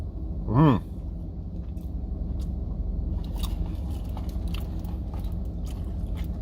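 A single close bite into a burrito with a brief crunch, followed by quieter chewing over steady low background rumble.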